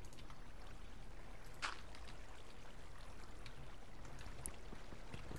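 Flowing water in the video game Minecraft makes a faint, steady rushing and trickling wash that continues evenly throughout with no talking.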